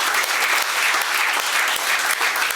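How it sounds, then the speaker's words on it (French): Sustained applause from a church congregation at a Sunday service, a dense steady wash of clapping from many hands filling the room without a break. "Acclamez pour ses sœurs."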